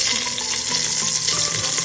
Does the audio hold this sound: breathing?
no